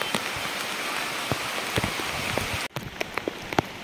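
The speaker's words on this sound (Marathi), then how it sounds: "पाऊस चालू" Rain falls steadily in the jungle along the Bhorgiri to Bhimashankar trek, a dense patter of drops with sharper close splats, briefly dropping out before resuming, no voices.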